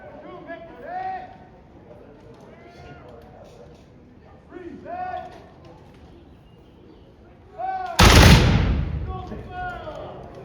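A single loud cannon boom from an artillery piece firing on an earthen redoubt at a Revolutionary War battle reenactment, with a long rumbling tail, preceded by outdoor chatter and bird calls.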